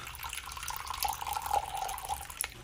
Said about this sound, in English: And lastly, we fill up our water dish.